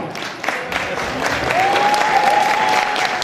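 An audience at a Women's Day celebration claps in steady, sustained applause that grows slightly fuller, with a faint voice or tone running underneath.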